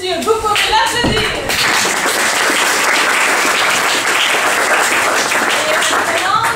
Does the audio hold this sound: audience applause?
yes